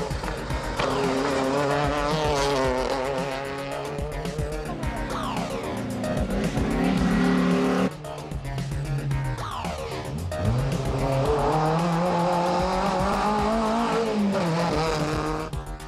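Rally cars at the 2007 Rallye Total race past with loud, continuous engine roar, revving up and down through gear changes, with tire squeal and skidding across the whole stretch, no talk.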